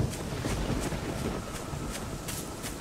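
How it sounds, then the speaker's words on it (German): Soft, steady rustling from a horror video game, with faint rhythmic brushing taps repeating about every half second over low windy noise. "Hör auf zu rascheln, du Spiel!"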